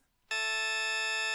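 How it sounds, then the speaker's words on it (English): A synthesized perfect fifth interval built with engineered overtones enters after a brief quiet moment, then holds as one steady, loud, bright chord without any change. "listen again to the perfect fifth"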